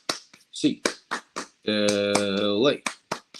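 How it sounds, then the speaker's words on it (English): Sharp, evenly spaced hand claps from Bruins fans keep time to a count, close and crisp, with a long sung or shouted voice rising in between. "Get your hands up, Bruins fans. 8 clap time, baby."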